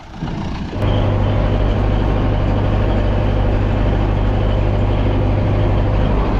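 A tractor drives across a soybean field while spraying herbicide: a loud, close, steady engine drone with a constant low hum that holds unbroken throughout, with no talking.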